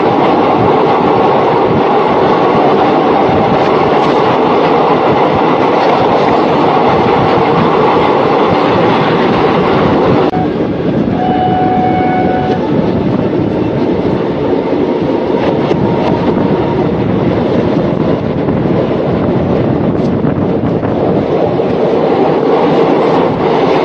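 Long-distance passenger train bound for Chandigarh on a multi-day journey, a loud continuous rumble of wheels on rails heard from inside the coach, with brief squeals and clatter partway through.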